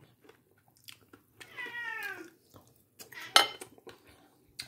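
Cats meowing and jostling for food during a home lunch of rice with chicken and raisins, a drawn-out meow standing out among clinks of cutlery and dishes and soft chewing, nearby and fairly quiet, with no talking.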